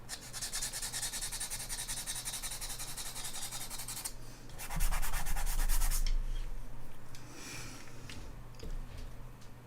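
Soft pastel scratching on paper while drawing a gorilla: close, continuous raspy strokes with bursts of faster back-and-forth rubbing and a few light taps, quiet and without talking.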